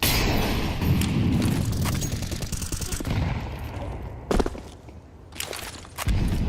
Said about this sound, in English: Well-timed nade, but it doesn't actually blow open the smoke